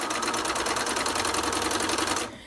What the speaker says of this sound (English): I'm going to sew one of the short sides together instead